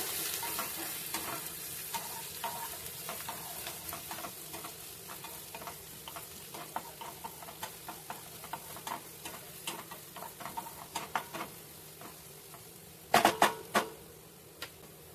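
Vegetables, including capsicum, stir-fry on a low flame for veg noodles. A soft, continuous sizzle sits under repeated spatula scrapes and clicks, with a louder clatter of stirring near the end.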